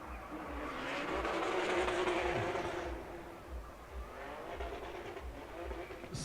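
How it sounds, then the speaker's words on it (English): A BMW E36 drift car at Formula Drift on the streets of Long Beach, engine screaming against the rev limiter with a bouncing, stuttering tone, heard at a distance under crowd and announcer ambience. "Standing on the rev limiter as he wraps it around the last clipping point"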